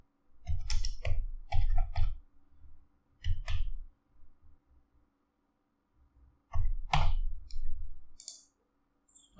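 Someone types a mobile number on a computer keyboard, producing short bursts of close, crisp key clicks separated by brief pauses, with no talking.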